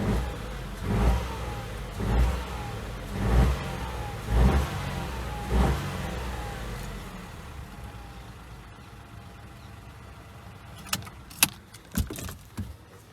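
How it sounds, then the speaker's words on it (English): A Citroen DS3 engine, just after an oil change, gives several short revs in a row, each rising and falling. It then drops to a low idle, followed by a few sharp clanks near the end. "Rev it a little bit, let it prime up."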